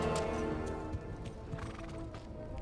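In the video game Kingdom Come: Deliverance, a horse's hooves clip-clop in a steady trotting rhythm close by, and a whinny or snort sounds near the start.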